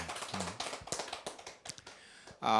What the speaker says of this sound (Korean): 박수 한번 이렇게 보내주시기 바랍니다.